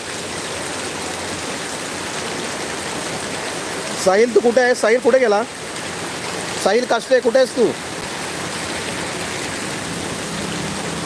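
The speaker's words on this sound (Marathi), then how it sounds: "खतरनाक पाऊस पडतोय मित्रांनो हे बघा" Heavy monsoon rain pours steadily in Sangameshwar, Ratnagiri, in the Konkan region, a dense continuous hiss running throughout while a man calls out loudly in two short bursts.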